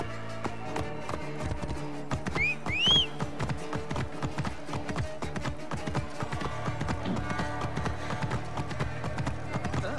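Horse hooves clip-clop steadily in Assassin's Creed Origins, a busy run of close, crisp hoofbeats with a brief whinny partway through and game ambience underneath.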